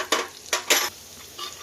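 Green chili paste and spices hit hot oil with three quick bursts of sizzle and scraping stirs, close up, followed by a faint lingering fry.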